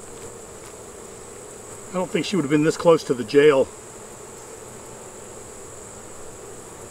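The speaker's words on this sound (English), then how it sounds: "This hive is buzzing now, though, let me tell you." Honey bees buzz in an open, agitated hive during a beekeeper's frame inspection, a steady droning hum throughout with a person speaking briefly over it in the middle.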